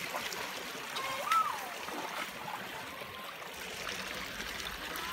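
A shallow stream flowing, a continuous soft rush and trickle of water heard from nearby, with a brief faint voice or squeak rising over it once.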